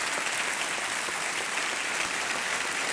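A studio audience on the quiz show Kaun Banega Crorepati applauds in a sustained, even wave of clapping from many hands, loud and uninterrupted.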